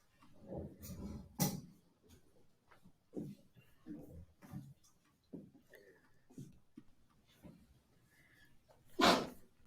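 A single sharp sneeze bursts out near the end, set in a quiet classroom with scattered soft rustles, breaths and small movement noises before it.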